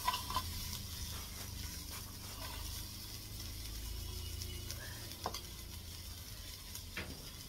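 Sliced onions frying in a pan for fish curry, giving a steady close sizzle with occasional stirring scrapes and small clinks against the pan, and no talk.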